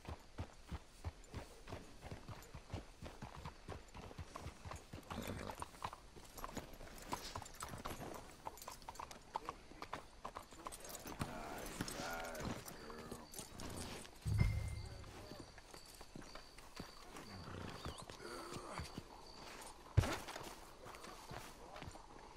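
Rhythmic hoof clip-clop of horses walking at a steady pace in Red Dead Redemption 2, with people talking over it and occasional louder thumps.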